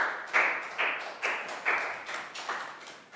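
Pupils in a primary-school English classroom clap together in a steady rhythm: about seven sharp, even claps roughly half a second apart, close and fairly loud, with no talking.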